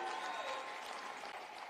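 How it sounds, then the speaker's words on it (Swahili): A crowd at an outdoor presidential rally in Machakos claps in a brief, steady burst of applause, heard from a distance. "mpigieni makofi."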